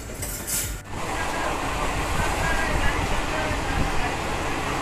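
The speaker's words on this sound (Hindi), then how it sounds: "हमारी ट्रेन धीरे धीरे जमानिया की ओर बढ़ते हुए" A passenger train moves slowly along the track toward Zamania. A constant close rumble and rattle follows a brief louder burst at the start, with no clear talk.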